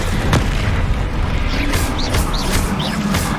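The Expelliarmus disarming spell cast in the game Hogwarts Legacy: a loud, booming magical burst with a few rising whooshing chirps, set against a constant roaring game backdrop.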